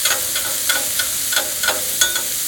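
Sliced peppers and onions sizzle on a Blackstone griddle, a bright steady hiss broken by regular scraping strokes of a spatula about every third of a second, close and loud with no talking.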